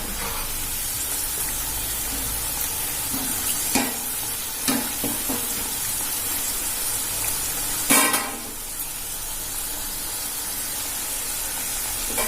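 Snake gourd vada frying in hot oil gives a steady, close sizzle throughout, with a few brief clinks and spattering bursts as the pieces are turned.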